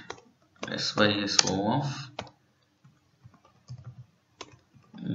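Java code typed on a computer keyboard: someone speaks briefly, then scattered quiet keystrokes tap out in small irregular clusters.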